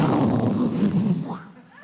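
A voice mimics an airplane engine blowing up, a loud rough explosive burst held for over a second before trailing off, delivered as a comedy bit.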